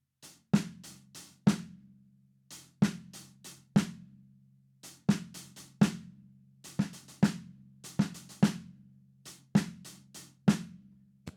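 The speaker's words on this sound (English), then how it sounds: "Your right hand's going to be the hi-hat, left hand's going to be the snare." Funk drum groove on hi-hat and snare with a paradiddle stop, made of crisp, close, sharp hits in syncopated bursts separated by short pauses, played alone with no talking.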